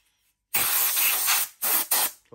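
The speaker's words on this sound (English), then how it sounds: "I'm gonna take my air compressor" An air compressor nozzle blows sawdust off laser-cut wood with loud, close hissing bursts: one long blast, then two shorter ones, with silence before.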